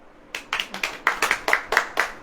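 A congregation claps hands at a Hindi-language Christian sermon, about nine sharp, fairly regular claps that build from scattered to steady, fairly close and with no talking over them.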